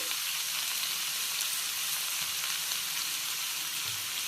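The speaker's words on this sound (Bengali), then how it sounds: "আলু খুব ভালোভাবে চিকেনের সঙ্গে মিশিয়ে নেওয়া হচ্ছে।" Potatoes and chicken with salt sizzle steadily in a hot pan as they are stirred, a constant close frying hiss with occasional soft scrapes of the spoon.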